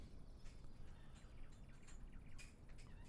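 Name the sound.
birds tweeting in Microsoft Flight Simulator 2020 video game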